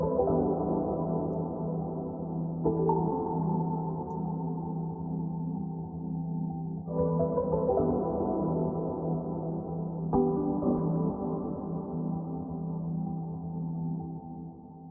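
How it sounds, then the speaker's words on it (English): Piano samples lifted from an older animation, heard as a dense, muffled, lo-fi sustained wash of piano chords with soft chord changes every few seconds, steady and unaccompanied. "This is what it originally sounds like for the piano samples."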